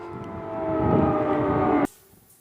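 An air raid siren wails steadily at full volume over Kyiv, Ukraine, a loud sustained droning tone that cuts off abruptly, leaving quiet background noise.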